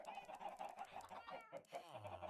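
Several chickens cluck in a video game, soft repeated clucks and bursts at moderate level with a low hum underneath, steady through the scene.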